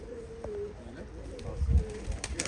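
Tumbler pigeons coo softly in a loft, several low, rolling coos in quick succession, faint and close, with light shuffling and rustling underneath.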